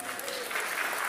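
Church congregation breaks into brief applause, a dense burst of clapping from a crowd that lasts about a second, with a voice faintly audible beneath it.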